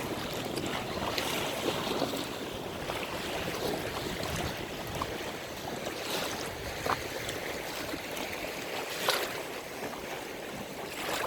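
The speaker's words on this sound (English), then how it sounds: "I am the only one who is kayaking." Kayaking on the sea in a small cove at Cala Rossa beach near Terrasini, Sicily: continuous wash of waves and water around the boat with steady wind buffeting the microphone, no voices.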